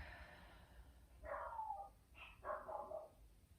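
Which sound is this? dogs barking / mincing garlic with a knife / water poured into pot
dogs barking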